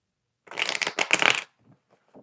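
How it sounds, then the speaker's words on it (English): A deck of tarot cards being shuffled by hand in one dense riffling burst of about a second, fairly close, followed by a few soft taps and rustles as the cards settle. "Okay, one more shuffle."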